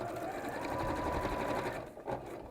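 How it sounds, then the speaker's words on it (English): A domestic sewing machine runs continuously, stitching across fabric seams and raw edges, a steady close whirring hum that slows and stops near the end, with no voice over it. "So we'll sew across those seams now, or those raw edges, starting with your reverse stitch."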